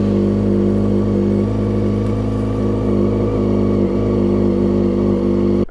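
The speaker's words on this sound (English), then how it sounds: "so I'm just going to have to start it and see." A motorcycle engine, being tested during repair of a faulty multi-plug connector, runs steadily at a loud, constant idle with a deep, even drone throughout and no talk over it.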